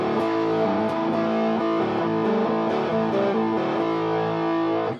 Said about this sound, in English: If I put this one up and work with all three pickups,